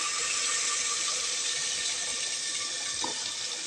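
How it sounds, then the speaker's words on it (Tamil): Tamarind water with turmeric and chilli powder pours steadily into tomato rasam, a continuous close liquid rush with a faint splash near the end and no talk. "அதுக்கப்புறம் புளி கரைச்சல் ஊற்றிக்கலாம்"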